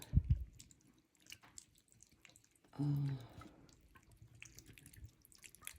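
Carnation evaporated milk is poured onto macaroni and cheese in a brief, soft, liquid gurgle of about half a second, with quiet handling sounds around it.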